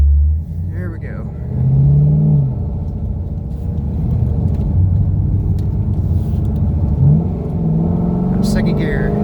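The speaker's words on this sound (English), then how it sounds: "Just want to hear what it sounds like when I open it up" A 2013 Chevrolet SS Camaro convertible with a new exhaust revs up with a loud, steady rumbling engine roar that builds and holds for several seconds, with a person speaking briefly over it.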